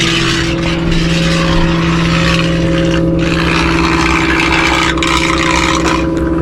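Electric outboard motors dry running out of the water at about 80% power, a loud steady whine with constant tonal hum and hiss, unbroken throughout, close to the microphone.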